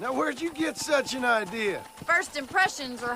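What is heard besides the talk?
None of the usual background noises is heard.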